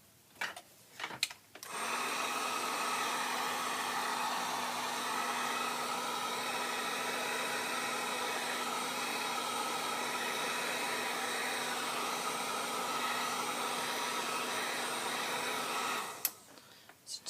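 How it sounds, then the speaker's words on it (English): A heat tool blasts hot air over tea-stained paper, a steady loud whoosh with a constant hum that holds for about fourteen seconds before cutting off, with brief handling clicks at either end. "You can speed up the drying time of both of those by giving it a quick little blast with your heat tool."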